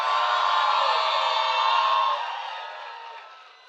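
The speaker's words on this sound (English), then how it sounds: "Come on, family and friends, scream." Family and friends at a commencement ceremony scream and cheer as one big crowd, a loud sustained roar that holds steady and then fades off over the last second or so.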